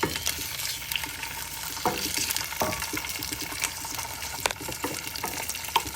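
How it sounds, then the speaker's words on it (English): Crayfish sizzling in hot oil in a pan, a steady crackling fry with occasional sharp pops and stirring scrapes, close and continuous with no talking. "So right now we're just going to add this crayfish to this hot oil."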